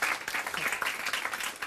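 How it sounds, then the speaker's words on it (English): An audience at a televised panel discussion breaks into applause, a dense, loud wash of clapping that carries on steadily through the whole moment. "Give them a round of applause"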